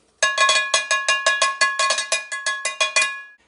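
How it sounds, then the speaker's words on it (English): Metal clanging in a quick, steady series of about fifteen bright, ringing strikes, like a spoon hitting a pot, close and fairly loud. "you can grab a pot or a pan and make a sound like this."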